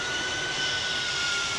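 An airliner's jet engines roaring during takeoff at Greater Rockford airport, a steady loud broadband rush with a faint high whine, heard continuously.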